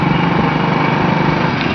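A motorbike rides through the streets of Ludhiana, its light engine buzzing steadily and loudly up close, without a break and with no talking.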